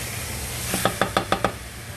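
Minced pork dumped into a pot of hot olive oil: about six quick, sharp knocks in an even rhythm as the meat is knocked loose, over a soft steady hiss, close and without talking.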